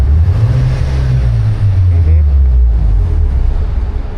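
A street racing car's engine in Osaka drones loud and close with a deep low rumble and a slight rev swell, holding steady before shutdown.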